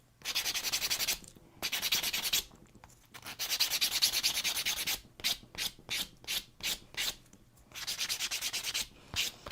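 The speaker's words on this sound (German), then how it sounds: "Zuerst schleifen, zuerst hübsch machen." A 3D-printed plastic Easter egg is sanded by hand, with long rasping strokes followed by a run of short, rapid scrubbing passes, close and alone without speech.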